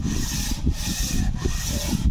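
Sandpaper of grit 100 rasps steadily by hand against a cylinder head in quick back-and-forth strokes, a close, continuous gritty scraping with no talking.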